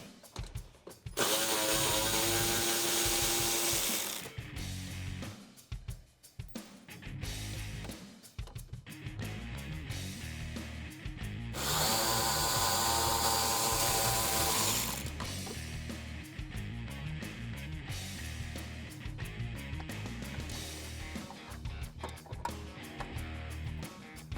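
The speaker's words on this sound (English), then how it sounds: "I can remove these 2 10mm nuts here at the corner of the bumper" Ratchet clicking in loud bursts while 10mm nuts come off the corner of a 2005-2009 Mustang GT bumper, with quieter mechanical handling and clatter between the runs of ratcheting.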